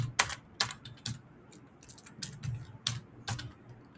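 Computer keyboard typing while JavaScript code is written, with scattered bursts of keystrokes in short clusters, near and moderately quiet, no talk.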